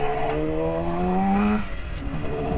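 A 1976 Yamaha RD400 two-stroke motorcycle pulls away in first gear, its engine rising in pitch as it accelerates, close and loud, then easing off into a steadier drone.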